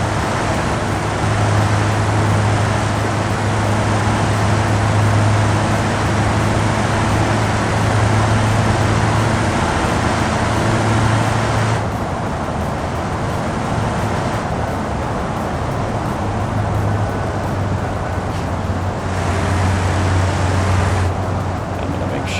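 A truck engine in the BeamNG driving simulator drones steadily while accelerating through the gears toward ninth, a loud continuous rumble with audible shifts in pitch, as someone talks over it.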